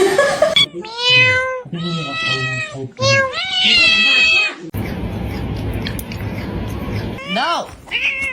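A pet cat meows repeatedly in loud, drawn-out, harmonic cries, close and insistent, with a noisy stretch of rustling between calls and more short meows at the end.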